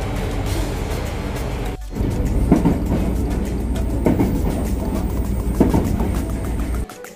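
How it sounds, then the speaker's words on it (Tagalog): Train running toward Huis ten Bosch in Kyushu, Japan, with a steady loud rumble and rhythmic clickety-clack of wheels on rail joints, a brief dip near two seconds, then continuous rolling noise. "Train papuntang Haus ten Bosch."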